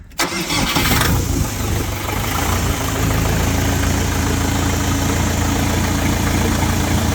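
A Terra Force 455L mini tractor engine cranks and catches, then settles into a loud, steady, even idle that runs close by without pause.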